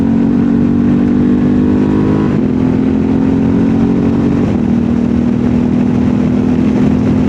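A motorcycle engine drones loud and close under steady acceleration, its tone dropping briefly at about 2.4 and 4.5 seconds as the quick shifter snaps through gear changes without lifting.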